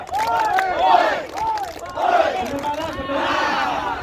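Voices of a group on a Lembang villa games outing chant a family clap routine together, louder and more energetic, with rising and falling sung phrases in repeated bursts over a busy backdrop of claps.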